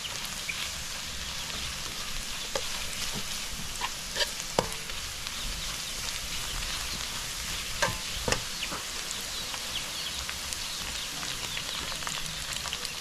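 Garlic frying in a pan until brown, a steady soft sizzle with occasional light stirring clicks, quiet and close, with no voices.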